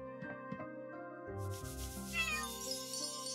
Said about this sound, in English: Oh, there's another cat over there.